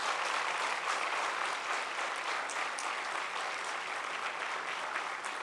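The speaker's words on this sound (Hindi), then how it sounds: "आप तीनों के लिए जोर से ताली हो जाए" An audience at an international academic conference at Doon University, Dehradun, applauds three standing foreign delegates with sustained, even clapping from many hands that stays loud and steady without any speech.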